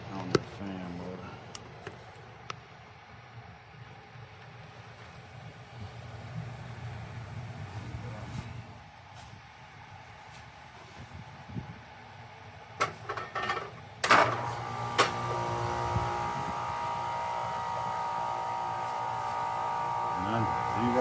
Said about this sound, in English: I'm gonna start it up. This is my fan motor right here.